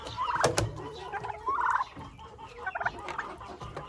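Turkeys in a chicken coop gobbling in short rapid bursts, several calls close by over a low background of farmyard noise and scattered knocks.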